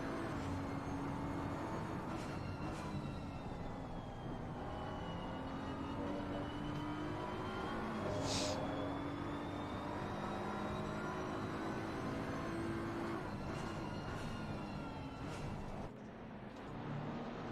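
GT race cars accelerating out of the last turn through Deer Leap at Oulton Park, a steady distant engine drone with rising pitch sweeps as cars pass, faint and continuous.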